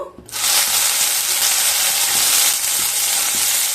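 Sliced bitter gourd dropped into hot mustard oil bursts into a loud, steady sizzle right after a quiet start, crackling and hissing close up throughout.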